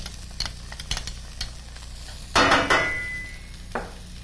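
A tablespoon of shallots sautés in a pan of sauce. A spoon taps and stirs with light clicks, then a loud burst of sizzling flares up, fades, and flares briefly again.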